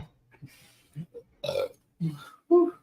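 A few short, throaty burps in a row, close and fairly loud, separated by brief pauses.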